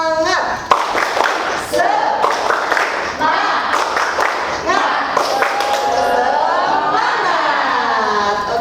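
A school class claps together in a rhythmic 'tepuk semangat' motivational clapping chant, sharp group claps in patterned bursts mixed with children's chanting voices, loud and close throughout.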